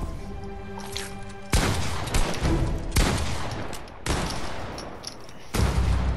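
Fortnite gunfire, likely a pump shotgun: four loud, close shots spaced roughly a second apart, each a sharp blast trailing into a long, rumbling decay, with no talking over them.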